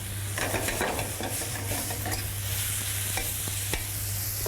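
Peppers and shallots fry in a pan over fierce heat, giving a steady close sizzle broken by repeated stirring scrapes and clinks, with no one talking.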